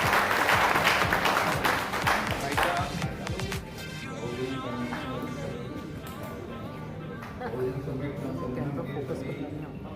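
At a community organisation's foundation day gathering, an audience bursts into loud, dense clapping that fades after a few seconds, then someone speaks over a murmuring crowd.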